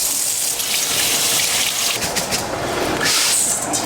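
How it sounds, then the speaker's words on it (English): Rice is rinsed under a running tap, a loud, close, continuous gush of water with splashing that shifts as the grains are swirled. No one talks. "Let's rinse our rice."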